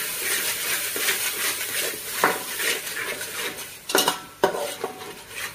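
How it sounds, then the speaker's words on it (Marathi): Egg biryani masala with finely chopped mint stirred in a pot: a soft sizzle beneath a spoon scraping and clinking against the metal, with a few louder knocks near the end. "ह्यात थोडासा बारीक चिरून पुदिना टाकलाय मी. थोडंसं अजून हलवून घेऊया."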